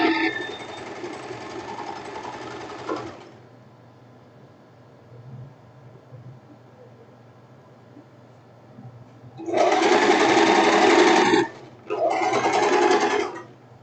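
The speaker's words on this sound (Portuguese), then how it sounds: "É assim que a gente vai fazer a nossa costura francesa" Sewing machine stitching a French seam on silk fabric, a steady close mechanical whirr in one longer run, a pause, then two shorter bursts.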